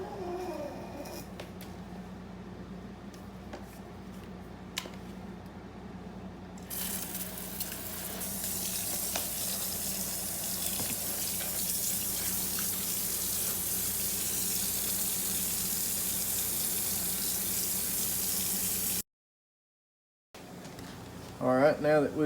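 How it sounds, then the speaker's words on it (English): Tap water runs steadily into 5-gallon bags of harvested chickens set in a cooler, a constant rushing splash that starts softer, swells and holds before cutting off abruptly near the end. "Now I'm going to fill them up with water."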